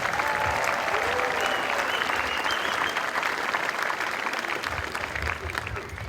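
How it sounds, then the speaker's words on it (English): Outdoor crowd at an Air Force basic military training graduation ceremony gives a sustained, loud round of applause for graduates' parents and families, continuous clapping that tapers slightly at the end. "how about one more round of applause for the parents and family members?"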